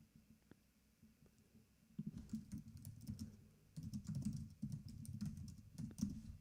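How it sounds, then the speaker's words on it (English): Quick bursts of keyboard typing, clustered clicks of keys pressed in uneven runs with short pauses between, fairly close and moderately loud. "the keystrokes come in through the side right there, so that's why that sound takes place."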